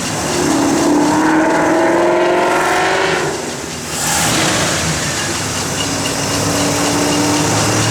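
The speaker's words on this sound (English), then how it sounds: "Turn the key, fires right up." A 1966 Pontiac GTO engine running loud and steady at close range, its throaty rumble rising and falling slightly at first before settling into an even idle.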